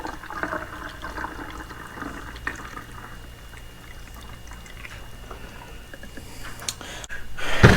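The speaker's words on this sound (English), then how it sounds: "Fill it up there with water." Water is poured to fill a container in a soft, continuous trickling stream that builds slightly toward the end. It is fairly quiet and heard alone, ending with a brief louder clatter.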